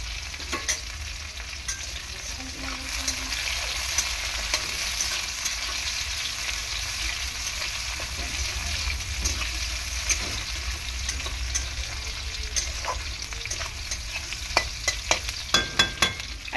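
A dried red chili and a bay leaf fry in hot oil in a pan, making a steady, loud sizzle that lasts throughout, with occasional stirring scrapes and a few sharp pops toward the end.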